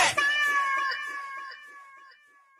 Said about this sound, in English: Drop that cat.